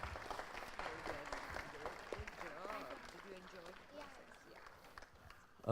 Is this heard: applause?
yes